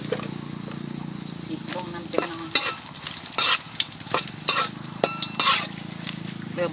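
Dried chillies frying and being stirred in a hot pan for duck larb, with a steady oily sizzle and repeated scraping stirs and clinks of a utensil against the pan, close and fairly loud.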